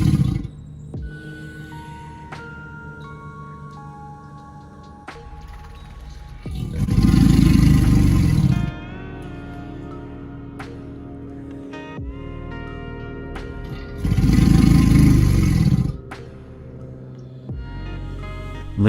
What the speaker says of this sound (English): A male alligator's low growl or bellow is so loud and deep that it even makes the surrounding water vibrate.